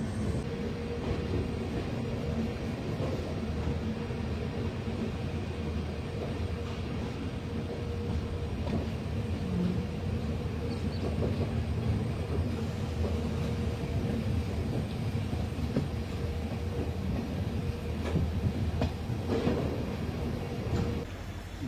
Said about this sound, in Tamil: அதனால தான் நம்மளுக்கு வந்து ஹூப்ளியிலேருந்து டீசல் லோக்கோ புல்லிங்.